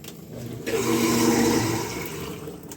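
Water rushes through the line of a Kinetico water softener after the bypass is closed, a steady broadband flow that swells from about 0.7 seconds and holds, with no talk.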